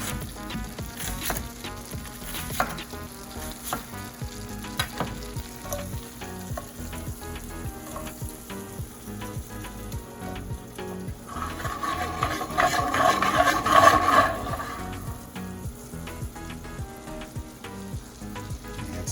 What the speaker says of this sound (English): We don't want to burn that butter. We're going to add some onions.